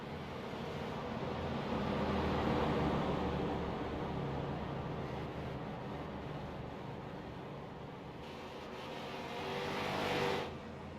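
Race cars roll down pit road in a racing video game, giving a continuous broadband engine roar that swells and fades as the cars pass, with a brief louder surge near the end.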